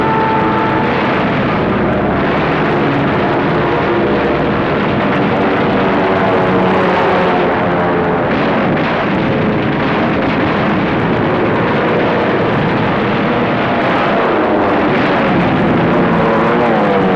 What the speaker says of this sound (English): 50 United States dive bombers were hurtling in from the sky